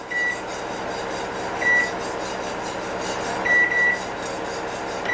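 Microwave oven running with a steady hum while its timer is set, several short electronic beeps sounding singly and in a quick pair over the drone, close and clear, no talking.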